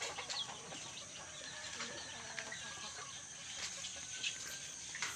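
Farm chickens and turkeys cluck and call after their morning feed, a faint mix of scattered clucks and chirps over soft outdoor background noise with no talking.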